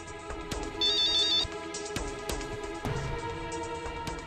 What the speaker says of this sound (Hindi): कोई जरूरी फोन है तो आप अटेंड कर लीजिए